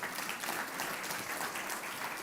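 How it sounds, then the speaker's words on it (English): An audience at a healthy-eating summit in North Carolina claps for the hosting partners, a dense, even wash of applause lasting a couple of seconds with no voices over it. "Round of applause for them, please."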